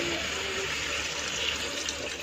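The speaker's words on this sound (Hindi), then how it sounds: "अब इस मौके पे हम पानी डाल देंगे" Water poured into a pan of cooking bottle gourd (lauki) curry, a steady, soft splashing hiss that runs unbroken throughout.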